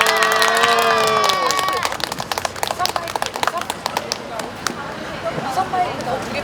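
Crowd clapping and cheering at a Korean candlelight rally welcoming school non-regular workers' union singers; sharp claps swell after an amplified speaking voice ends, continuing loudly and unevenly.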